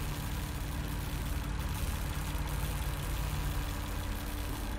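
Diesel generators run inside a shed in a video game, a steady low droning engine hum with a constant mechanical rumble and no talking.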